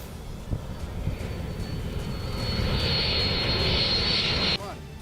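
An Indian Air Force fighter jet flies overhead, its broad roar swelling with a rising whine after a few seconds and then cutting off abruptly near the end.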